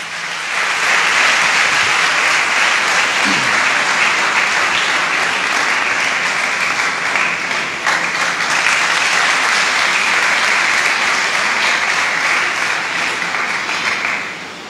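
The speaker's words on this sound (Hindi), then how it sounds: "तालियां आपकी बहुत कम हैं।" A congregation at a Holy Mass in St. Anthony's Parish, Lahore, breaks into loud, sustained applause that fills the church evenly for about fifteen seconds, with no voices above it.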